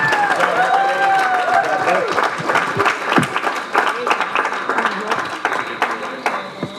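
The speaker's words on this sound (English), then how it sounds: "So please smile and clap." Audience claps at an outdoor evening dance show in Bermuda, steady applause with a few scattered cheers, while people talk close by over it.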